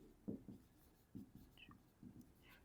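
Pen scratching across paper during a number-system maths lesson, several short faint strokes in an uneven rhythm, close and quiet with no talk over them.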